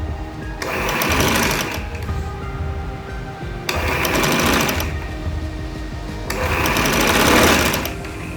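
Sewing machine stitching a gents collar band, three rapid whirring runs of a few seconds each separated by short pauses, close and steady.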